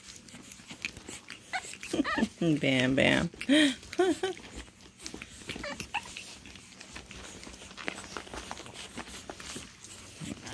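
Puppies tussle in a game of tug of war, with growly yips, whimpers and scuffling bites rising in a burst near the start, then softer shuffling and chewing while a person talks quietly over them.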